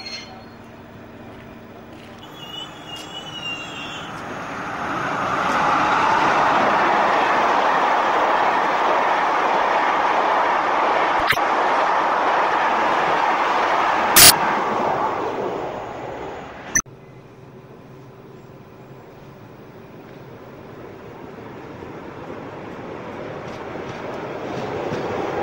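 A DB class ETA 515 battery railcar passes in the Duisburg area, rising from a distant rumble to a loud rolling roar with sharp wheel clicks, then fading as the train moves away.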